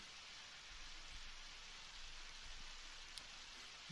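Steady, hissing rainfall in the video game Undertale fills the scene, a constant wash of patter with faint low thumps beneath, even and unbroken throughout.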